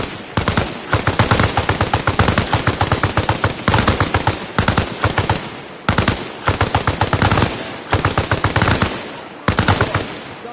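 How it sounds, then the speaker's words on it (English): Sustained machine gun suppressive fire from a squad in the military game Arma, loud and close, rattling in long rapid bursts with only brief pauses between them. "Have your boy lay down suppressive fire."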